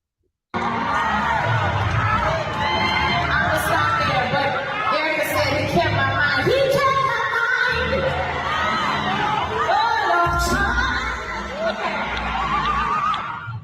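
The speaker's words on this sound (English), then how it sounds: "Y'all just shouted and had Dr. Moore." A dense crowd shouts and cheers continuously, loud and close, with overlapping voices, whoops and laughter filling the whole stretch.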